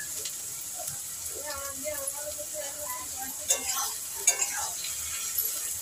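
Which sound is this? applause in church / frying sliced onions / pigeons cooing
frying sliced onions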